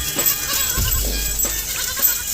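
Goats that have wandered into a cultivated farm field bleat faintly a few times amid outdoor background noise, with no clear talk.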